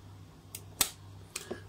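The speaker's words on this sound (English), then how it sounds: "And there you hear the shutter." A Yashica Electro 35 GSN film camera with no battery fires its shutter with a sharp, faint mechanical click, preceded and followed by lighter clicks in a quiet room.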